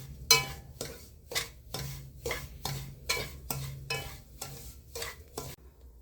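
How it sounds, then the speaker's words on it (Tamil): Dry semolina (rava) roasting over low heat in a pan, stirred in a steady rhythm of about a dozen scraping strokes, each a close, crisp rasp of grains against the pan, with no voices. "ரவையை ஒரு 2 நிமிஷம் வறுத்து எடுத்துக்குவோம்."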